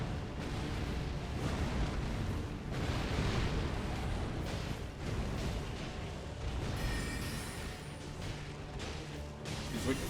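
Heavy, continuous rumbling blasts and crashes of missiles exploding in the Elden Ring game fill the scene, loud and dense, with a faint crackle over the top.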